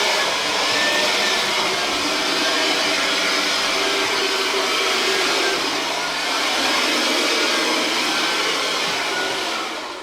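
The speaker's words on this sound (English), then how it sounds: "I've got this Ryobi blower thing, and it's brilliant" A Ryobi blower used for dusting runs continuously with a loud, steady high-pitched whine and airy rush, close by, easing slightly mid-way before picking up again and fading near the end.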